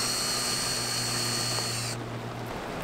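A power drill drives screws while a box is built outdoors in the rain, giving a steady, fairly faint whine that holds for about two seconds and then stops, leaving quiet background hiss.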